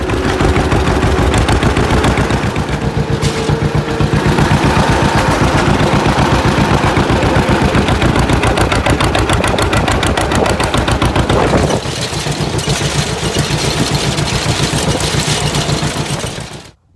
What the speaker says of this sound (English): Today I'm using a John Deere CC field cultivator. It's 8 feet wide and a 1951 John Deere G.